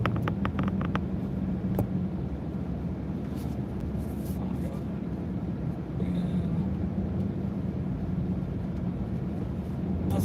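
A pickup truck driven slowly along streets while searching for a parking spot, its steady low engine and road rumble heard from inside the cab throughout, with a few brief clicks and knocks.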